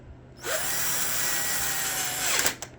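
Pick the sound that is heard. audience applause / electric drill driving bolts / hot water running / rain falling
electric drill driving bolts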